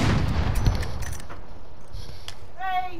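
Gunfire in the video game Call of Duty: Modern Warfare, a quick cluster of close shots at the start that thins into scattered softer pops, with a voice talking faintly alongside.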